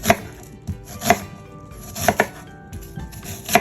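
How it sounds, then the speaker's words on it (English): A knife slices vegetables for homemade succotash: sharp, spaced chops on a cutting board, about six distinct cuts in an uneven rhythm, close and clear with no talking. "So we're going to slice it here."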